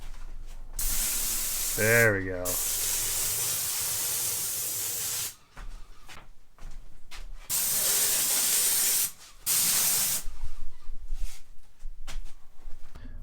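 An airless paint sprayer spraying paint during a camper remodel gives off loud, steady broadband hissing bursts, several seconds long, separated by brief pauses, with a short spoken remark early on.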